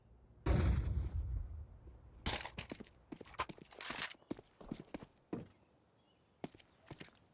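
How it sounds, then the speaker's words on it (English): A flashbang grenade is thrown in Counter-Strike 2, followed by a loud burst and sharp, scattered clicks and pops spaced irregularly over a quiet, otherwise empty background. "Throwing flashbang."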